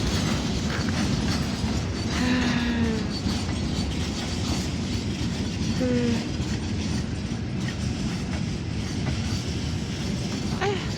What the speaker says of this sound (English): you can't really rush past the train